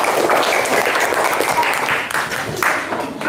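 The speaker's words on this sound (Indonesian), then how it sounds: "Oke, tepuk tangan buat semuanya." A class of students in an Indonesian classroom applauds together, a dense burst of clapping close by that carries on for the whole few seconds.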